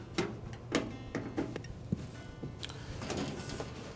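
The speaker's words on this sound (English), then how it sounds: "it's held in place with 7 Phillips screws. So we'll remove all those around the perimeter" Phillips screws being backed out of the rear panel of a GE refrigerator, heard as a series of close, light clicks and ticks at an uneven pace with a few small scrapes and a sharper tap in between.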